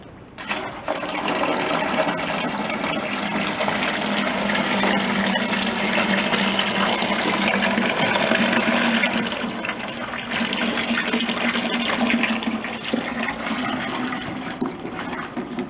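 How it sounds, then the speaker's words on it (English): Grape juice for white wine pours steadily into a fermenting vessel, a continuous liquid rush that stays loud and even throughout, dipping briefly midway before resuming. "So now we add the grape juice."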